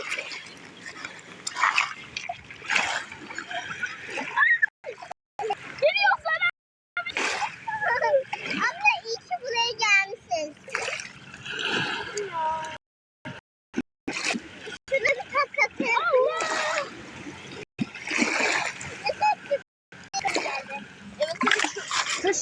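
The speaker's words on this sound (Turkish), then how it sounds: "Büyük dalga geliyor." Big sea waves splash and wash over children at the beach, the watery rushes mixed with constant children's and adult chatter and shouting.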